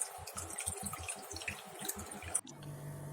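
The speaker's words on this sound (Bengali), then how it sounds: "এবার আমি এটা বেঁধে একটু এটা চিপে নেব ভালো করে জলটা একটু ঝরুক" Water drips and trickles from freshly made chhena cheese squeezed in a cloth, a quick run of soft wet patters that stops abruptly, fairly quiet and close.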